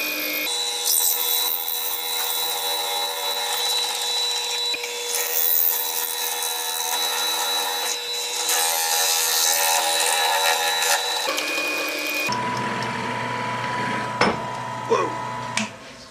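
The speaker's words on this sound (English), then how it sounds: "I'm going to re-drill out that brass tube and get as much of it out as possible." Continuous grinding, rasping drill noise boring a brass tube out of cocobolo wood for a pen, steady and close for most of the stretch, then a lower hum with a few sharp knocks.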